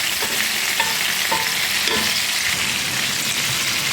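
Onions fry in a hot pan with spices such as saffron and turmeric, hissing and sizzling steadily, while a spoon scrapes and stirs them in several distinct strokes, close and fairly loud, with no talking.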